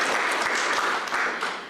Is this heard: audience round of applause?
yes